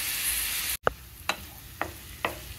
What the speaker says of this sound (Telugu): ఉల్లిపాయ ముక్కలు గోల్డెన్ బ్రౌన్ కలర్ వచ్చే వరకు వేయించుకోవాలండి.